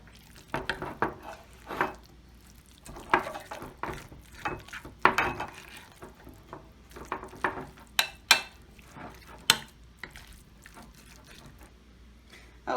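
A spoon stirring diced celery into a tuna mixture in a bowl, a series of irregular scraping clinks and taps, close and fairly quiet, with no talking.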